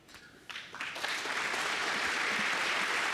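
A snooker crowd bursts into applause during a near-maximum break, starting as scattered claps and swelling within a second into loud, sustained clapping that fills the hall.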